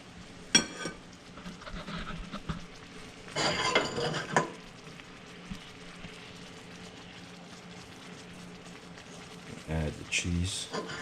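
Garlic and herb butter stirred around a hot pan for pasta sauce, with soft scraping and faint sizzling, a couple of louder clinks of utensil against the pan, and someone talking at times over it.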